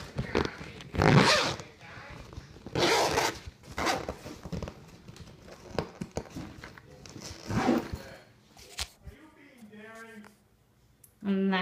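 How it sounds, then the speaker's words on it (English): A zipper is run along a fabric DVD storage bag in several short rasping pulls, close to the microphone, with handling rustles and a voice speaking between and over the strokes. "so I can zip it up and show you what it looks like zipped"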